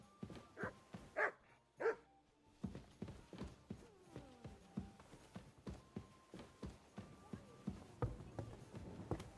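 A dog named Mutt in Kingdom Come: Deliverance 2 gives a few faint barks near the start, followed by a run of quiet, rhythmic clip-clop footsteps.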